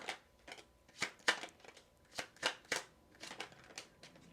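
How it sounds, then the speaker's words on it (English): Tarot cards are shuffled in a rapid run of crisp riffling bursts, close and fairly quiet, with no voices. "We have a shuffle and pull again."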